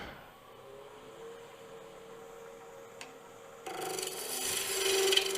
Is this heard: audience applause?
no